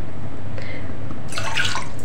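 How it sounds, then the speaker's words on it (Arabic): About half a cup of water poured into a small pot on the stove while cooking molokhia, heard as a brief, soft splashing trickle over steady kitchen background hiss. "جبت حله اهو، اي حله صغيره كده على النار، تحط شويه ميه صغيرين اهو، نص كوبايه مثلا"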